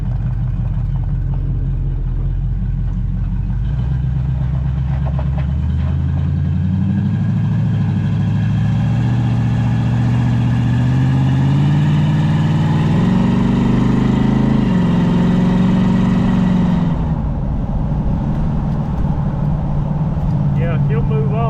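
A 1973 Jeep CJ5 engine with short mufflers idles close by, a loud steady rumble whose pitch climbs slowly as it revs up, then drops back down near the end.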